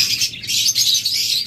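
A pair of caged lovebirds chirping close by, rapid shrill high-pitched tweets coming in quick bursts with tiny pauses, loud and alone without any talk.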